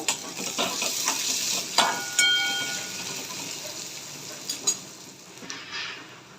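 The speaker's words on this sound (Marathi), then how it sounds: "एक बारीक चिरलेला कांदा ॲड करायचा आहे आणि कांदा गोल्डन ब्राऊन कलर होईपर्यंत मस्त आपल्याला परतून घ्यायचा आहे तेलामध्ये" Finely chopped onion fries in oil for bitter gourd sabji, a steady close sizzle broken by a few scraping stirs and light clinks, without any talking.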